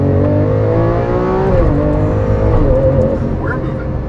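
A first-generation Lamborghini Aventador V12 revs hard toward 8,500 RPM while accelerating, its loud rising engine note climbing through gears from inside the car, with voices heard over it.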